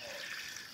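Tap water pours into a bucket outdoors in Uttarakhand, a steady faint rushing splash with no voices over it.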